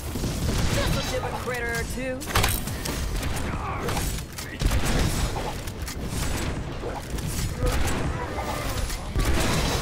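A bomb explodes on a giant in the Orcs Must Die! Unchained video game, with booms and rattling trap mechanisms in a dense, loud, continuous battle mix under someone talking.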